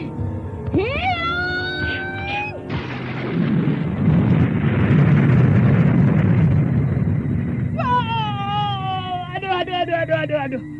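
A radio drama sound effect of a thunder strike attack, a long roaring rumble of thunder in the middle, framed by voiced shouting and cries before and after.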